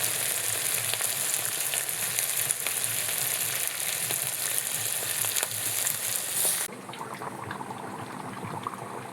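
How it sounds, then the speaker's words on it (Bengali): Hot oil sizzles and spits loudly in a wok (kadai), a dense crackling hiss that drops abruptly to a softer, quieter sizzle near the end; no speech. "এখন কড়াই গরম হয়ে গেছে, তেল দিয়ে দিচ্ছি।"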